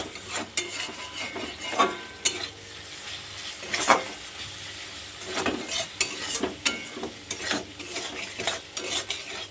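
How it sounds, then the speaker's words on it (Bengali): A spice paste of ginger, garlic, turmeric, cumin and salt is stirred and sautéed in a pan, giving a steady close sizzle broken by repeated scraping strokes of a utensil against the pan. "এবার মশলাটাকে আমি ভালো করে কষিয়ে নেব।"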